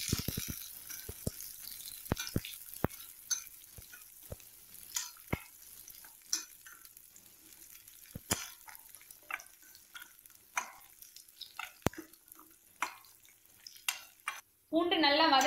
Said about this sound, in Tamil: பூண்டு சேர்த்துட்டு அதையும் நல்லா வதக்கி விடுங்க.